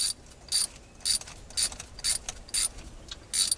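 Spark plugs being hand-tightened snug into long threads on a 2003 Toyota Tundra, heard as seven evenly spaced ratchet clicks, crisp and close, repeating about every half second with faint background hiss between.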